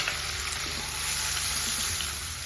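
Onion, capsicum and tomato frying in a pan for makkhan bhaji, a dense steady sizzle with soft stirring under it, close and unbroken, with no voices.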